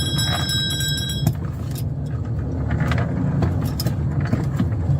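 A 2015 Honda Pilot on a test drive, with a steady low road and engine rumble heard from inside the cabin, plus a few light clicks and rattles. A brief high electronic chime sounds near the start.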